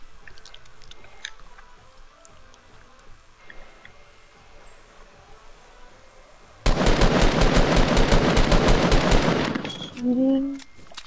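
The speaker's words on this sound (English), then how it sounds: "Shooting." Video game gunfire erupts midway, a dense, loud burst of rapid automatic shots lasting about three seconds, then cutting off, with quiet game ambience and faint background sounds before it.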